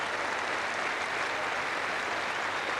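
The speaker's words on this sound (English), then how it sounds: "So the applause from the Duchess of Gloucester, the biggest trophy in tennis," Sustained applause from a large crowd at the Wimbledon tennis trophy presentation, a dense, even roar of clapping that holds steady throughout without a break.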